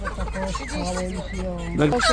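Hens clucking at the Przytyk poultry market in Poland, a steady stream of overlapping close clucks and calls that swells louder toward the end, with other fowl and faint voices in the background.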